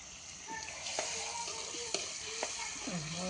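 Pav bhaji vegetables simmering in a pan under a covered plate, giving a steady soft sizzle with a few light clinks and scrapes from a spoon, fairly close and with no talk.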